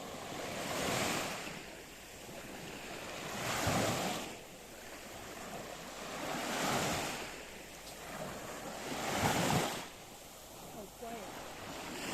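Mediterranean Sea waves on Protaras beach in Cyprus: four surges break and wash onto the shore at a slow, even pace, with a soft hiss and light wind between them.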